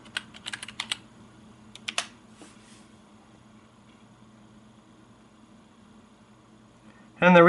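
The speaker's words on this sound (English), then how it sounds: "Let's type something into Google." Keys on an Apple iMac G3 keyboard are tapped in two short bursts near the start, clicky and close, then quiet room hum follows until a loud noise at the end.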